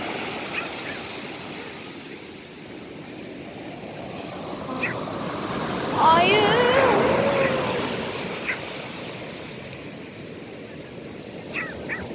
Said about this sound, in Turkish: Valla çok dalgalı.